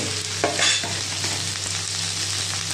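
Snake gourd drops into a hot pan of five-spice tempering and two dried red chillies, giving a steady close sizzle with a louder burst as it lands and scraping stirs, no voices.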